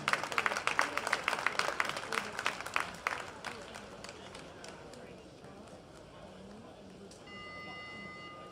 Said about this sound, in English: why don't we give a big round of applause to our volunteers helping us put on today's event